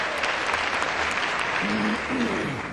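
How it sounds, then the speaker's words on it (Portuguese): A legislative chamber crowd claps in sustained dense applause for the whole stretch, close and full, with a voice briefly heard beneath it. "uma salva de palmas para vocês"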